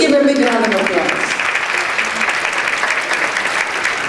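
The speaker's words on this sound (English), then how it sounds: "Please give a big round of applause." Crowd applause at a Hindu Awareness Day gathering, a steady dense wash of clapping from a large audience, briefly over a trailing voice at the start.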